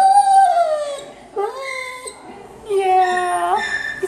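A dog makes a drawn-out, wavering howl-like whine in a long opening phrase, a short break, then a second rising, sustained cry, loud and close with no talking.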